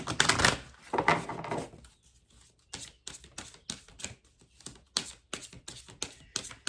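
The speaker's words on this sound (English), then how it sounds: "let's shuffle these a little bit" A deck of reading cards is shuffled by hand in fast papery riffles, opening with a loud dense burst and then settling into a run of shorter, softer bursts, close and alone with no talk.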